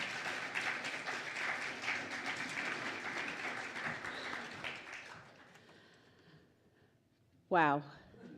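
An audience applauds a singer, with several seconds of dense, steady clapping that fades out, followed by a brief loud vocal burst near the end.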